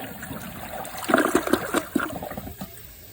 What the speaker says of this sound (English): Now that the tank is full, I'm going to show you the small flush.